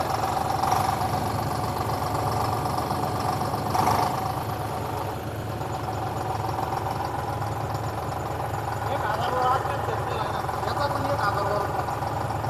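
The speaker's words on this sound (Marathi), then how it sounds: "1000 म्हणजे 10 वर आपण आरपीएम सेट केलेला आहे" The engine of a tractor compared between a John Deere 5050D and an Eicher 548 runs at a steady 1000 rpm idle with a low, even drone, while people talk faintly over it.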